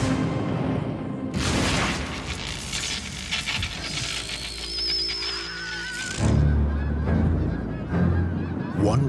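Canada geese honk repeatedly at an airport, loud, close calls overlapping in a busy flock, with a low rumbling background and no talking.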